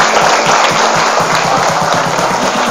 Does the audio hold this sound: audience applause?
yes